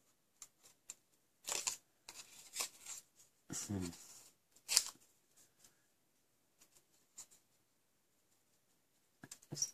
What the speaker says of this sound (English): Just jagged paper in and out as you're cutting.